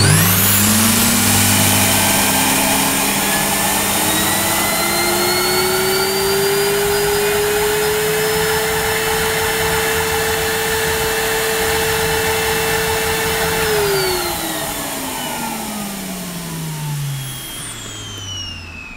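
A 1997 Dirt Devil 1100-watt cylinder vacuum cleaner runs loud and steady with a constant motor whine, then spins down near the end as the motor pitch drops off.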